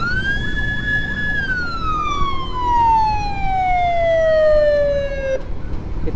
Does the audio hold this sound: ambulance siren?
yes